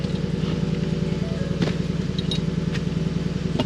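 A 2013 Ford F150 engine runs steadily at idle, a low rhythmic throb held the whole time with a brief clatter partway through, close and moderately loud.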